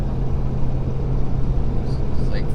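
Stock Powerstroke diesel truck in 5th gear towing 14,500 lbs up a hill, a steady low rumbling drone heard from inside the cab, loud and unbroken.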